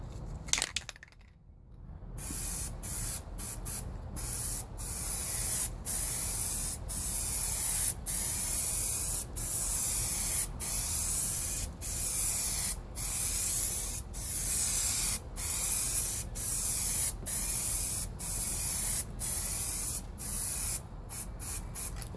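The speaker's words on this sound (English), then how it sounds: "I've just been spraying primer on it to kind of build it up a little bit." Spray can laying primer onto a 2003 Cadillac CTS driver's side mid quarter panel during bodywork, a steady close hiss in repeated bursts broken by short pauses, with no talk.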